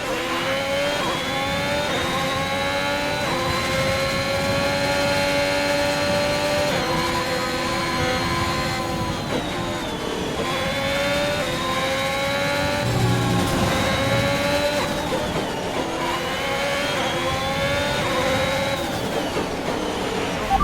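Formula 1 race car engine from the F1 2021 video game at the Netherlands round, revving loudly and steadily with rising and falling pitch through gear changes, continuous and close throughout.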